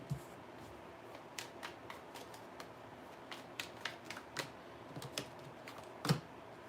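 Tarot cards are shuffled and drawn, making faint, close papery flicks and soft taps at an irregular pace, with a sharper snap near the end, over a quiet room.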